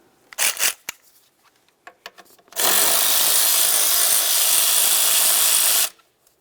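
Power tool, likely a ratchet or impact wrench, loosening a 10mm nut under the hood of a Dodge Journey: a few sharp clicks and knocks, then a loud continuous whirring burst of about three seconds, close and without talk.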